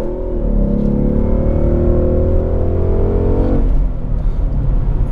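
A 2017 Ford Mustang GT California Special Convertible in track mode accelerates with a loud, steady engine drone that climbs in pitch for several seconds and then drops away abruptly near the end.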